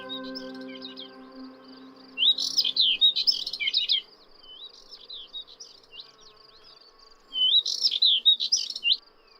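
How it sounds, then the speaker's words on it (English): Bright, warbling bird songs in two bursts over a quieter chatter of calls, with a faint low hum running through. "The birdsong of subalpine warblers and thekla larks can be heard all around."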